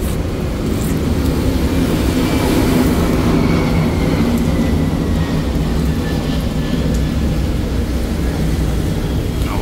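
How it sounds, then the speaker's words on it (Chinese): An airplane passes overhead in Neihu District, Taipei, on a rainy day. A broad, steady roar holds at a fairly even loudness for the whole stretch, with no talking. "然后飞机飞过去了。"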